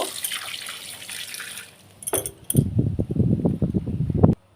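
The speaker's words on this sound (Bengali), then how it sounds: "মাছ আর এই ডিম সব ভালো করে আগে আমি ধুয়ে নেব" Catla fish pieces and fresh fish roe are washed with water, a soft running hiss giving way to close, choppy splashing and sloshing with occasional light clinks of a bowl.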